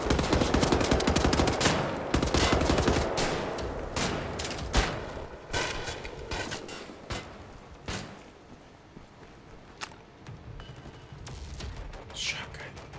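Heavy gunfire in the shooter game Wolfenstein: The New Order, including shotgun blasts: a loud, dense barrage of shots for the first few seconds, then thinning into scattered separate blasts and thuds.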